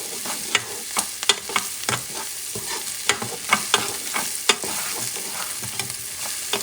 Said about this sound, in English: I'm going to mix this up for a few seconds because you don't want the garlic to burn